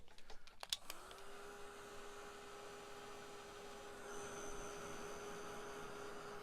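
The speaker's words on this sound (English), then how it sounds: "I'm just going to dry them." A heat gun runs steadily after a short burst of clicks, drying ink on a plastic internal post envelope with a constant, close blowing hum and a faint high whine.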